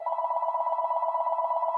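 A home telephone rings with a steady electronic trill, loud and continuous throughout, with no voices.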